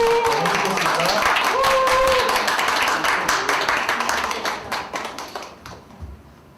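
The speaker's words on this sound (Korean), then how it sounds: "큰 박수로 부탁드리겠습니다" Sustained applause from an audience for the top-prize winner at a national youth doctrine speech contest, loud and dense clapping with some voices mixed in, gradually thinning and fading out toward the end.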